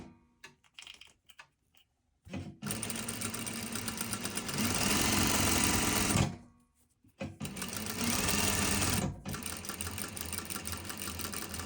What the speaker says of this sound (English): just sewing that facing together, right sides together, 1/4 inch seam allowance, just down the curved side